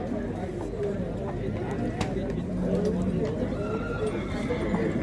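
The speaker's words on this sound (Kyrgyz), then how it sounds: "Anda аттарды тартууну баштайлы туугандар." Horses at the Jany Nookat horse market stamp and clip-clop close by, with an occasional whinny, under steady crowd chatter and people talking throughout.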